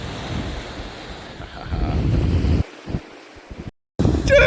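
Ocean swells and waves slosh around a kayak paddling toward Egmont Key, a rushing watery roar with gusts of wind on the microphone, briefly cutting out near the end.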